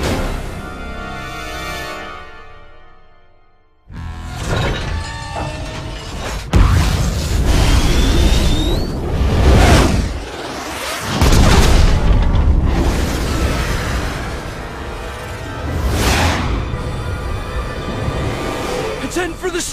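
Missiles blown apart in the Resident Evil 6 video game, a string of loud booming explosions with rumbling blasts after a quieter lead-in and a sharp onset, heavy and close, with some game chatter mixed in.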